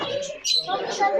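Birds chirp and coo in the bird section of Souq Waqif, a busy market in Doha at night, with bright calls mixed into crowd chatter and nearby voices.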